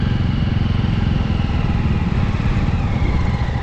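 A Jawa Classic 300 motorcycle engine thrums steadily with a fast, even low pulse, loud and close while riding, with wind and road noise mixed in.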